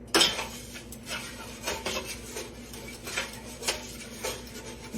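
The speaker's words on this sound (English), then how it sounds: "She just said stir it constantly, so I'm gonna do that" Caramel cake icing stirred constantly in a pot, a spoon scraping and tapping against the metal in a steady, irregular rhythm over a soft low hum.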